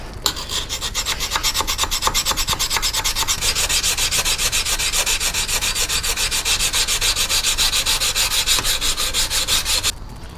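A rusty knife blade is stroked steadily along a 600 grit sharpening stone, a continuous loud rasping scrape with a fast back-and-forth rhythm lasting about ten seconds, close and alone with no talk.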